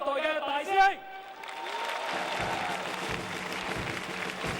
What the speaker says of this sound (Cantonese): 請大家用熱烈嘅掌聲歡迎我哋呢啲第一代嘅大師兄。